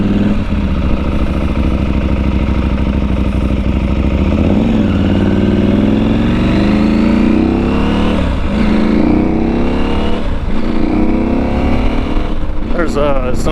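A KTM 790 Adventure R motorcycle engine pulls away from a clutch release, its loud, close drone rising and falling in pitch through repeated surges, with a rider talking over it.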